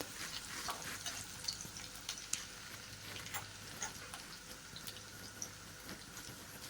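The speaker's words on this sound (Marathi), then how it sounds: "तो सुद्धा गुलाबी होईपर्यंत परतून घेऊयात" Onion being sautéed in a pan until pink, a soft continuous sizzle and frying hiss with faint stirring clicks, steady and fairly quiet throughout with no speech.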